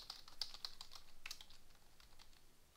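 Fingers type a username and password on a computer keyboard to sign in to a GitHub account, producing a quick, faint run of close key clicks with small pauses and no voices.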